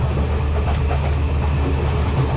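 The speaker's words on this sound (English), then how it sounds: "today I'm pleasantly surprised by the Colombo to Kandy train." A Colombo to Kandy passenger train rolls along the rails, a loud, steady, close rumble with faint rhythmic clatter heard from inside the carriage.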